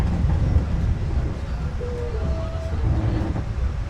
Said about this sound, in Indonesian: ada kereta api tuh yang masuk guys